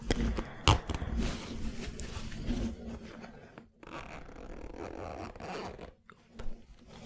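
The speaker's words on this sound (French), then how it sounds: "Donc une petite fermeture sur le côté." Small zipper on the side of a secondhand pencil case from a car-boot sale being pulled open, several close scraping runs of the slider with pauses between them, handled quietly.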